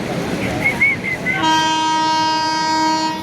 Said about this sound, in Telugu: ట్రైన్ అయితే వచ్చేస్తుంది